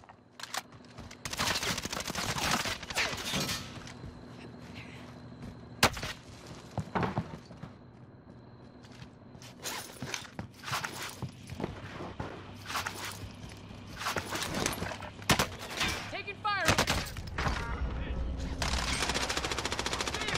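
Intermittent shots and bursts of gunfire in a Kar98 shooter video game, some sharp and close, others quieter, spread across a busy battle with voices talking over parts of it.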